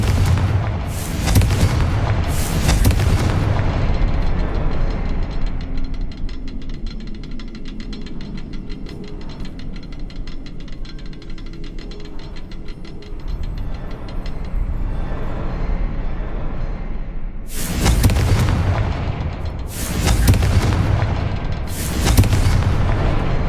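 Confringo spell blasts in Hogwarts Legacy go off as loud, deep booming explosions, a cluster at the start and several more near the end, with a rumbling game soundscape between them.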